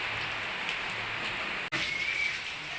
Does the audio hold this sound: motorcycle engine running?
no